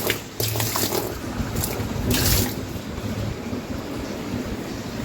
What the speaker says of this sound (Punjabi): ਕਲੀਨ ਕਰਨ ਤੋਂ ਬਾਅਦ ਪਾਣੀ ਦੇ ਨਾਲ ਸਾਫ਼ ਕਰੋ